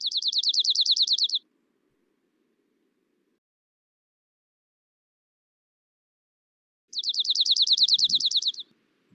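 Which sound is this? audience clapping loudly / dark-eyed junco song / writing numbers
dark-eyed junco song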